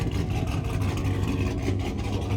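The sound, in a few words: LS V8 truck engine running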